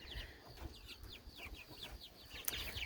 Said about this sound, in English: These are our chickens. These are our outside guys.